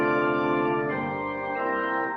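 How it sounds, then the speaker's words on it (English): Pipe organ sounding sustained tones on high-pitched flute stops, a smooth, steady held chord that shifts gently and fades slightly at the end, with no voices over it. "we get some more high-pitched flutes in this one, so you get some sounds like this."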